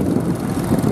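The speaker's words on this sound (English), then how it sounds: "That's the Porsche Major that's going past." A vintage Porsche Major tractor drives past at a ploughing match at Southrop Farm, Lechlade, its engine a loud, close, throbbing drone.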